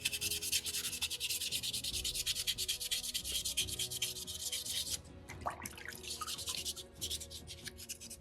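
Wet 320-grit sandpaper rubbed over a soapstone skull carving makes a continuous rapid scratchy rasping, close and steady, with a brief pause and a small clink before the sanding resumes.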